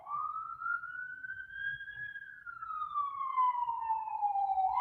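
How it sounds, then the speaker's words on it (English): A loud police siren wails steadily in a slow rising-and-falling tone, close by, with faint low rumble underneath and no talking. "Those are loud sirens."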